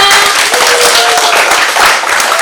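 An audience at an election literacy training event claps enthusiastically, with loud, dense applause filling the whole moment and faint tonal sounds mixed in underneath.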